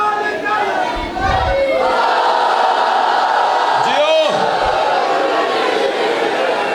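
A crowd at a Shia majlis (mourning gathering for Imam Hussain) raises a loud, swelling collective shout of a religious slogan, with a voice rising above the mass of cheering that carries on near and full throughout.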